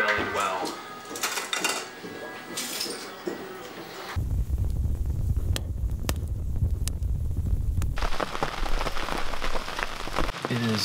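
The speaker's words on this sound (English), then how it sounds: "As you can tell, it's raining again." Steady rain falls outdoors on a morning at a hunting camp, a dense hiss that shifts in texture partway through with a low rumble and scattered sharp drops striking nearby surfaces.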